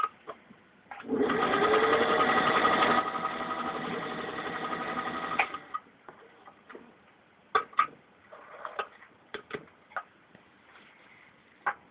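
A vintage 1947 Singer 201-2 sewing machine stitches through six layers of denim in a steady, close whirring run of about four seconds, then slows and stops, followed by scattered clicks and handling knocks.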